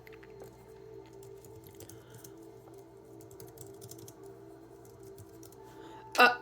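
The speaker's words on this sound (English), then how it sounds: "I'll jack that typing all up" Typing on a computer keyboard gives a soft, steady patter of light clicks under a constant electrical hum, ending in a sharper louder burst of noise.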